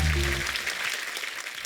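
Studio audience on The Kapil Sharma Show breaks into applause, a dense wash of clapping that follows a brief low voice at the start and carries on steadily.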